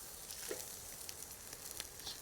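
A bun soaks up bacon grease on a ceramic-top pan at a snowy winter campsite, giving a steady, quiet sizzle with faint crackles and pops and no talking.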